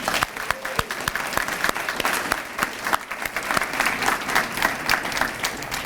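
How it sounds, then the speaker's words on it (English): Audience applauding high school honorees at an awards ceremony, dense steady clapping from a crowd filling the whole stretch, loud and continuous without a break. "a final round of applause for all of our high school honorees"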